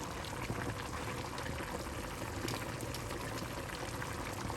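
A pot of cabbage, tofu and shiitake mushroom stew simmering after an hour of cooking, its liquid well reduced, giving a steady, dense bubbling hiss that holds evenly throughout with no talking.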